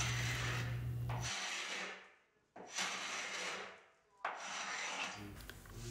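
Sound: carbide scraper scraping paint off an Art Deco dresser

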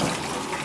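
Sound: water running while washing a lamb carcass

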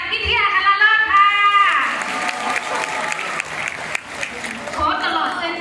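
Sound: audience applause

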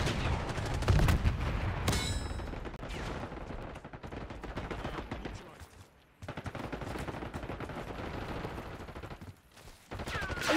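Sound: gunfire in Call of Duty Black Ops 6 video game

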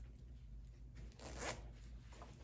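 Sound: zipping up a skirt zipper

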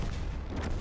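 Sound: tank gun shot in World of Tanks video game

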